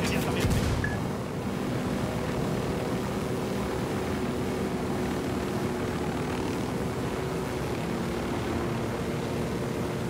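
A steady engine drone of a helicopter in flight in Ghost Recon Wildlands, continuous and fairly loud, with no voices.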